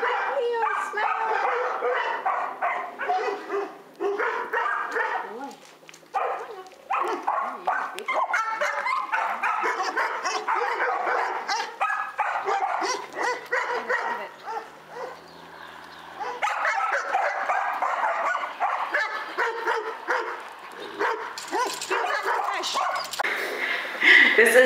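A service dog in training barks and yips repeatedly in excited bursts, with occasional whimpers, over a steady background of activity.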